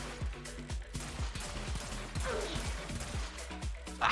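Rapid gunfire in the video game Warframe, bursts of quick repeated shots with a rhythmic mechanical pattern, moderately loud under a game soundscape, with faint speech in the background.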